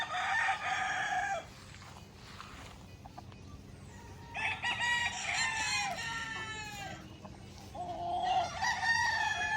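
Chickens and roosters on a Sunday fasting day crow in several long, loud bursts, one after another, with clucking in between and a steady low background hum.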